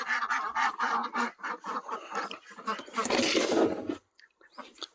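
Ducks on a farm quacking in a rapid, continuous stream of nasal calls, close by and fairly loud, stopping abruptly near the end.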